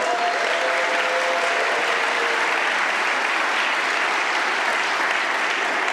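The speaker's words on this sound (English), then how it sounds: "A huge round of applause to Johannes" A crowd claps loudly and continuously, a dense, steady wash of applause that holds for several seconds.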